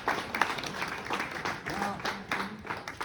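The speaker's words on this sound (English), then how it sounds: "Big round of applause for Reg." An outdoor crowd at a lantern lighting ceremony for the Queen's Platinum Jubilee claps in a lively round of applause, uneven bursts of hand claps filling the space while a voice speaks over them.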